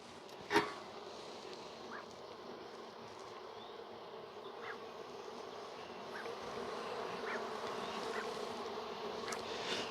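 Honey bees buzzing around open hive frames in March, a steady dense drone close by with a few individual bees zipping past and one sharp knock near the start.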